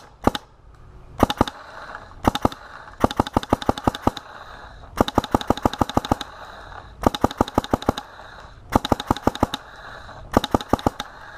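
A GOG eNMEy Pro paintball marker (2017 version) with a reloader hopper fires rapid bursts of sharp cracking shots, string after string with brief pauses between, loud and close with no talk.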